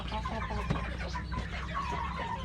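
Chickens cluck and murmur in a noisy coop, several birds close by with overlapping chatter.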